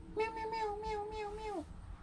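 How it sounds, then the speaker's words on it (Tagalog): A young Canadian kitten gives one clear, sustained meow that tails off downward, close and fairly loud against a quiet room. "Meow."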